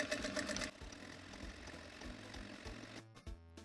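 A sewing machine stitching a zigzag patch over a hole in jeans runs as a quiet steady mechanical whir, stops briefly, then restarts in short bursts near the end.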